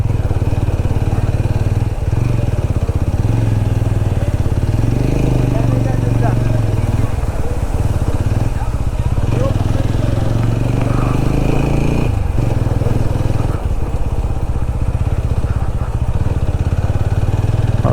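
A motorcycle rides along a road beside a deep valley on the way to Nanemachi waterfall near Pune, its steady engine drone and wind rumble continuous and loud throughout, with brief clatter over uneven ground.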